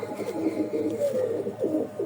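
Pigeons, including a young red Chinese pigeon, coo softly and repeatedly, a steady low burbling that swells and fades in several phrases, close by with no talk over it.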